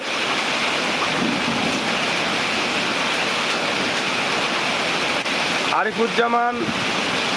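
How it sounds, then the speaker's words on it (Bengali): Heavy rain pours steadily during a night thunderstorm in Sylhet, a dense unbroken roar close by, with a brief rumble near the end. "এখানে রাত 11টা থেকে বৃষ্টি শুরু হয়েছে, প্রচুর বৃষ্টি"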